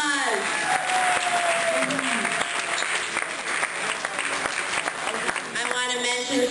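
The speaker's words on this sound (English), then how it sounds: "Let's give them a round of applause." Audience applause at a harm reduction dinner, a broad steady clapping wash lasting throughout, with a few faint voices and cheers mixed in.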